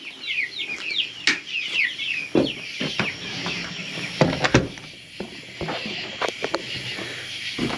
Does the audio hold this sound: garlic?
no